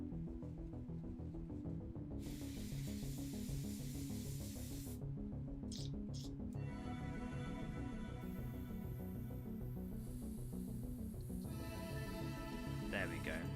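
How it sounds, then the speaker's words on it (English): An airbrush spraying paint until it runs empty, a steady hiss that starts, cuts out briefly and resumes over a constant background hum and music. "That's an emptied airbrush."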